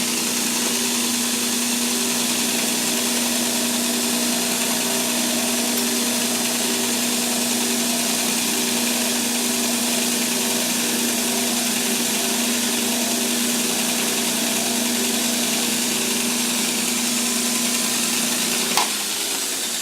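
A grinding wheel shaping a handmade knife gives a steady, loud motor hum with a constant whining tone for nearly twenty seconds, ending in a sharp click near the finish.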